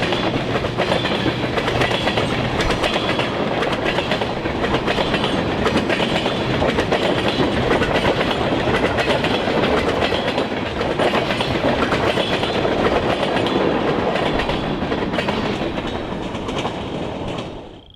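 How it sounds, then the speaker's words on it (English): Kansas City Southern local freight powered by a pair of EMD GP40-3 locomotives rolls past close by, a loud continuous diesel roar with rattling wagons and clickety-clack of wheels that fades at the end. "we caught up with the Roodhouse local east of Leonia with a pair of EMD"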